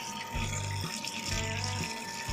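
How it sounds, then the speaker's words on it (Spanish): Hot water at around 40 degrees is poured for homemade yogurt, a soft close trickle and splash coming in a few short bursts against a quiet room. "ahora vamos a colocar el agua caliente"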